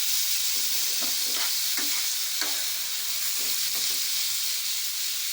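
Chicken pieces fry in two spoons of hot oil in a heated frying pan for shawarma, giving a loud, steady sizzle with occasional scraping stirs and no voices.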